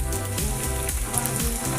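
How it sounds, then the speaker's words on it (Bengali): Bread slices frying in hot oil give a dense, steady crackling sizzle, close and continuous, with no talking over it. "এগুলোকে আমি ভেজে নিচ্ছি।"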